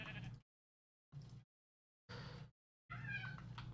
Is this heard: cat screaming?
yes